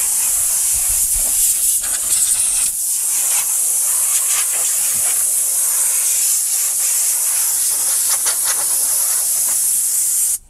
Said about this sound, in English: I'm going to spray and then back off.